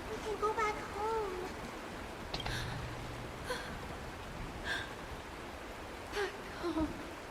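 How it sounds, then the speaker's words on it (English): Rain falls in the video game Honkai: Star Rail, a steady wash of noisy patter under musical tones and voices speaking. "It's raining!"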